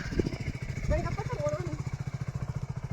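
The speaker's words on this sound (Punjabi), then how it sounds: "ਪਾਪਾ ਜੀ ਮੋਟਰਸਾਈਕਲ ਤੇ ਛੱਡ ਕੇ ਆਉਂਦੇ" A motorcycle engine runs close by, its rhythmic low putter pulsing steadily, while a person talks over it.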